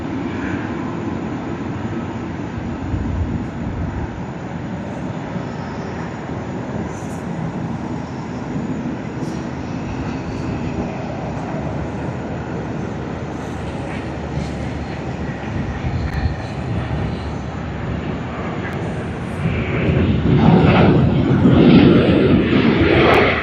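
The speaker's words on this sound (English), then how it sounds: "the Boeing 737 has begun its takeoff roll" A Boeing 737 bound for Perth rolls down the runway at Sydney Airport on takeoff, a loud, steady jet roar heard from a distance that swells and grows harsher in the last few seconds.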